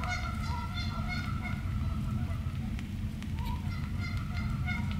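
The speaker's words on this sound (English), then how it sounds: "Those geese are not giving up tonight." Geese honk repeatedly through the night by a river near an urban campsite, calls overlapping in bursts over a steady low rumble of background noise, fairly close and continuous.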